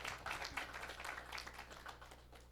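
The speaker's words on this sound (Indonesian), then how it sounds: "tepuk tangan bagi Tuhan kita" A church congregation applauding: a dense patter of many hands clapping at moderate distance, steady and fairly soft, over a low background hum.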